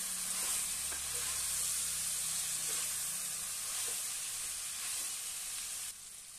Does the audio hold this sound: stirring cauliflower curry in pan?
yes